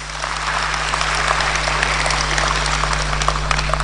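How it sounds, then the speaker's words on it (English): A crowd at a political gathering claps steadily throughout, a dense, even wash of applause with faint shouts, and a constant low electrical hum beneath. "A round of applause for our MPs."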